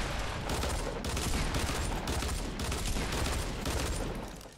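Rapid gunfire in the Fortnite Battle Royale video game, a dense, loud fusillade of shots in several quick bursts with brief gaps between them, with no speech over it.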